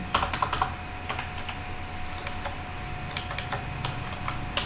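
Code syntax being typed on a computer keyboard: quick clusters of key clicks at the start, then scattered, lighter keystrokes with pauses, close and fairly quiet, with no talking.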